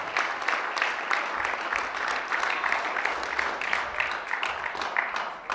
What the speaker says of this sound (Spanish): Dele palmas siempre a Dios